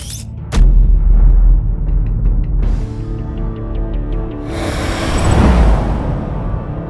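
A single loud gunshot boom in the video game Batman: The Enemy Within, followed by low rumbling and a swelling whoosh of noise, with no talk.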